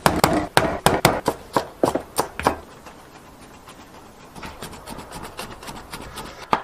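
Four or five cloves of garlic are minced finely with a knife on a wooden board: a burst of fast, sharp close chops, then a lull of quiet scraping, then softer, quicker chopping resumes.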